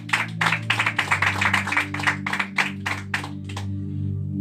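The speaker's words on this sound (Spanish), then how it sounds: "Denle una ofrenda de aplauso para el Señor." A church congregation claps in a series of rhythmic, sharp bursts of applause for the Lord, loud and close over a sustained low musical hum, fading out toward the end.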